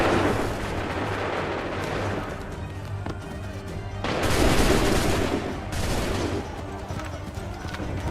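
Musket volleys in Assassin's Creed III, heavy rolling bursts of gunfire with booming, artillery-like blasts that swell and recede over a battlefield, with shouted commands heard in places.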